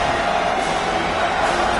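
A home crowd at a Nebraska football game roars steadily as the defense faces third down, a dense, continuous wash of cheering that holds at full level throughout.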